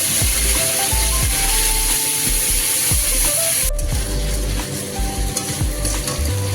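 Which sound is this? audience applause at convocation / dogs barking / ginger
ginger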